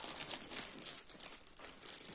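Plastic packet from a Farmasi cosmetics order crinkles and rustles in bursts close by, with soft irregular crackles through the clip.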